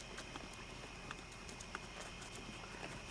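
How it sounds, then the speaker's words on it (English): Hooves of a 9-year-old chestnut and white Tobiano pinto mare, a three-quarter thoroughbred, one-quarter quarter horse cross, being ridden: a steady run of faint clip-clops over constant background noise, with no talking. "This is Talk of the Town, a 9-year-old 3/4 thoroughbred, 1/4 quarter horse. Pinto mare, chestnut and white Tobiano"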